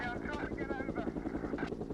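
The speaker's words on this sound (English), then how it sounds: "the helicopter picks up the criminal behind the fence and follows him into a wooded area" A police helicopter tracking a fleeing suspect over a fence and woodland thumps and whines overhead, its rotor pulsing in a steady rhythm, fairly loud and continuous with a brief rise in pitch.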